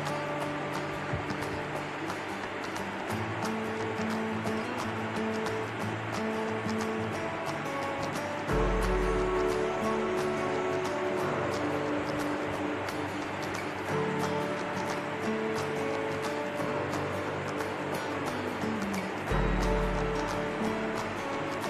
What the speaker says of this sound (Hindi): अब इस टाइम पे हम इसमें मिक्स करेंगे ये बासमती राइस